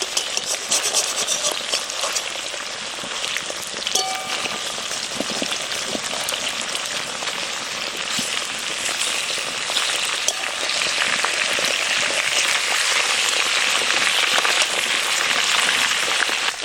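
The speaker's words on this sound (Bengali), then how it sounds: "সাইডটা আবার ভালো করে ভেজে নেব" Large pieces of an 11 kg river fish from the Ajay river fry in oil in a pan, giving a loud continuous rain-like hiss and crackle that grows slightly denser toward the end.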